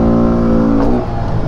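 A motorcycle engine revs loud and close, its steady drone rising and then breaking off about two-thirds through as the rider pulls a wheelie, with rough engine noise continuing after.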